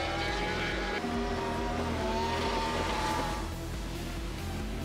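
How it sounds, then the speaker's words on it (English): A Nissan S14 drift car powered by a Hartley Racing Engines 1GZ Toyota 5-litre V12 howls at a racetrack, its high, steady exhaust note rising and falling through shifts, loud and continuous. "That unique exhaust note coming courtesy of a Hartley Racing Engines 1GZ Toyota 5-litre V12."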